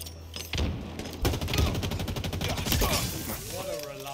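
Rapid, loud bursts of weapon fire in Halo Infinite during a 2v2 match on a Forge map. The shots come in a dense, continuous volley with a brief lull near the start and a faint voice underneath.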